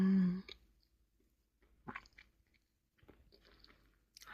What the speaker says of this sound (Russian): но кусается и жуется очень легко